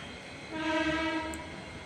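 A MEMU train on the Panvel–Vasai line sounds its horn at Kopar station, a steady sustained tone lasting about a second over a low rolling rumble, moderately distant.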